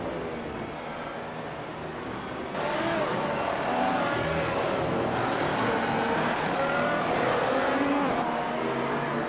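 A race car engine roars steadily on the Interlagos circuit in the iRacing Grand Prix Series, a loud, continuous drone that rises and thickens partway through as the car accelerates, with faint tire noise and possible commentary underneath.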